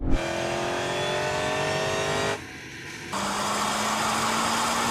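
An AMG G63 or Defender OCTA accelerates hard in third gear in manual mode with sport settings, engine note rising steadily and loud, with a brief dip at a gear change before climbing again.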